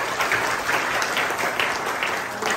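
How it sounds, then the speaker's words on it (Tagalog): A church congregation applauding the Lord during a Sunday service, dense steady clapping from many hands throughout, close and loud, with no speech over it. "bigyan nga natin ng maganang palakpak ang Panginoon"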